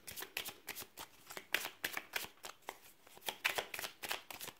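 Tarot cards are riffled and shuffled in a steady run of crisp, papery flicks, close to the listener and fairly quiet, with no voices over them.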